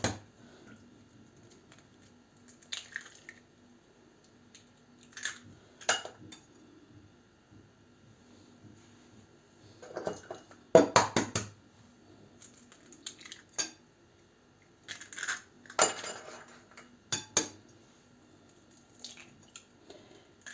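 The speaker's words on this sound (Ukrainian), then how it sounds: "Тепер сюди я вбиваю троє яєць." Three eggs crack into a bowl: several sharp cracks and wet squelches close by, spaced apart in short bursts, with clinks of a utensil against the bowl in quiet between.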